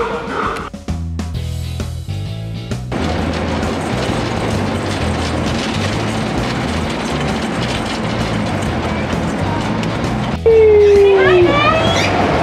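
A steady mechanical rumble and clatter of a moving train, with a rising squeal near the end and voices faintly under the noise.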